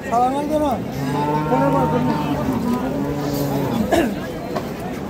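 Bullocks for Qurbani at the Ambari cattle market in Dinajpur give one long, deep, close moo. A murmur of people talking fills the background.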